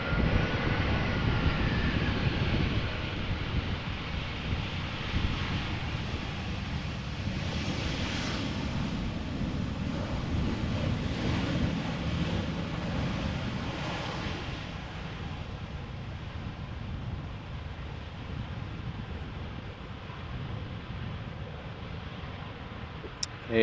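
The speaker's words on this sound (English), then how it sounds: "So this is Croatia Airlines arriving from Zagreb." A Croatia Airlines airliner arriving from Zagreb passes at Amsterdam Schiphol in crosswind conditions, a continuous distant jet rumble that swells slightly and slowly fades over about twenty seconds, without speech.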